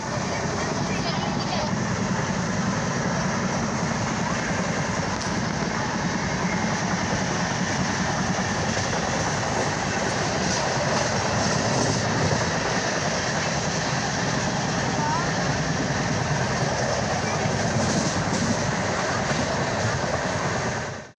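A moving passenger train heard from a window seat on a journey toward Kadapa, a loud, continuous rumble and rush of wheels on rails that holds steady for the whole stretch with no talking.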